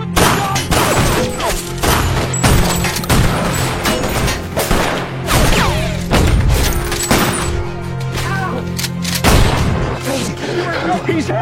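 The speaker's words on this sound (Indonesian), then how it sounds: "Tanpa diduga, Rich terkena tembakan dari para penjahat dan akhirnya dia pun harus dilarikan ke pusk" Chaotic bursts of loud gunshots and bangs from a movie scene, mixed with shouting voices and dramatic background music, dense and continuous throughout.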